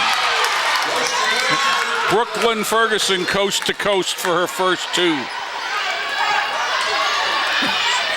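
A lively crowd buzzes and cheers through a girls' varsity high school basketball game, Lorain against Garfield Heights, with a commentator talking over it and sneakers and ball bounces on the court.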